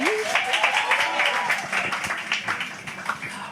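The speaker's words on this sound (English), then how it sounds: "Can we have another round of applause?" An audience at a live evening event with Sean C Johnson claps in a dense, fairly quiet round of applause, with a voice briefly heard over the start.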